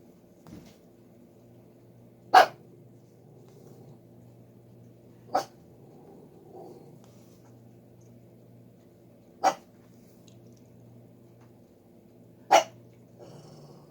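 A dog named Molly barks at neighbors, four sharp single barks spaced several seconds apart, fairly close, over a quiet indoor background with a faint steady hum.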